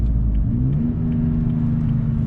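A third-generation Toyota Tacoma pickup, 2016 or later with an OVTune 2.0 tune on 91 octane, accelerates in first gear. The engine gives a steady mid-pitched drone whose pitch climbs smoothly, heard close and without talk.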